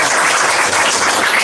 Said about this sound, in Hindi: एक बार सबको लिए ताली बजाइए